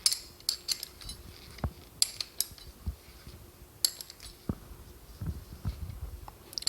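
A spanner works a bolt on a Moke front subframe in a sequence of sharp metallic clicks and ratcheting taps, irregular and close, with quiet pauses in between.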